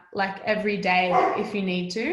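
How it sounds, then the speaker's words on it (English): A pet dog barks at home in a run of loud, close, yappy barks and yips, heard under a person talking. "he's barking."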